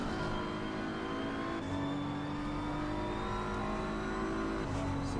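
Race cars lap the Snetterton circuit in a close SRA battle, engines droning and revving steadily at high pitch, with shifting tones as they jostle for position.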